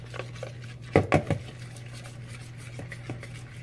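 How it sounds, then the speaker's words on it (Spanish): A spoon works through mayonnaise sauce in a bowl, with a few sharp clicks and scrapes near the start and softer scattered taps afterward. "Mezclamos bien."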